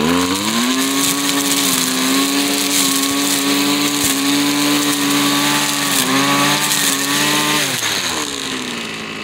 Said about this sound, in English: weed whacker will take that out nicely as long as you have that heavier twine on it